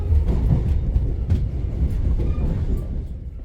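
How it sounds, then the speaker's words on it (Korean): The Jeongseon Arirang tourist train rolls along the rails, giving a steady low rumble with faint clacks and a slight fade toward the end and no talk. "벼러공역 다음 경유지인 선평역을 지난 열차는 정선역으로 이동합니다"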